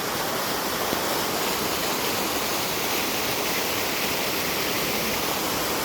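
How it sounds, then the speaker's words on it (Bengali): Drain and rain water pouring into a river during the monsoon, a steady, dense rushing roar that stays constant and loud throughout, like a small waterfall, with no voices. "এই যে ড্রেনের পানি, বৃষ্টির পানি পড়তেছে নদীতে"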